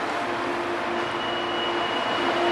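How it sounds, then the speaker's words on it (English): An Airport Express train running at Kowloon, giving a steady, continuous rumble of rolling stock with a faint sustained whine throughout, heard from inside a spacious carriage with no voices. "Oh, the train is moving."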